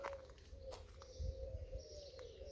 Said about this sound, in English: All these pigeons in the trees going, that's so cool.